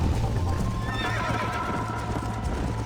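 Horse hooves clip-clop at a steady galloping rhythm with snorts and whinnies during a race in the Red Dead Redemption video game, loud and close, with no talk over it.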